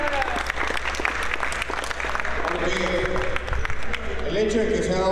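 Crowd clapping at a Warhammer 40,000 national tournament award ceremony in Mérida, Mexico: dense, sustained applause filling the room, fairly close, with a low hum beneath and voices mixed in.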